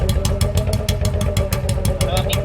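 A Royal Enfield Bullet motorcycle, towing a big trolley at around 60 to 70 km/h, thumps out a loud, close, steady rhythm of evenly spaced engine firing pulses.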